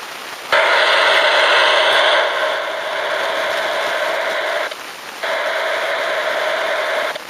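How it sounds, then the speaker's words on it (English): Digital radio transmission received on another radio comes through as harsh, loud broadband static, steady bursts lasting a few seconds each with a brief dip between them, no voice audible. "Sounds like static."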